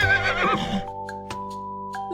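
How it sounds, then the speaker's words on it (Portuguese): A horse gives one loud, close whinny that shakes and falls away, followed by sustained steady tones and a couple of light clicks. "Este é o som do cavalo,"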